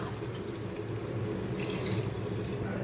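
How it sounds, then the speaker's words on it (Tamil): Water for vegetable biryani rice, one and a half tumblers per tumbler of rice, poured into a cooking pot of sautéed vegetables: a steady, close rushing stream that runs without a break throughout. "இப்போ தண்ணி சேர்த்துக்கலாம்."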